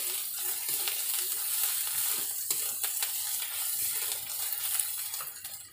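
Garlic paste frying in oil in a pan, a fish curry base in progress, gives a steady dense sizzle with small crackles and occasional stirring scrapes, close and continuous with no talk.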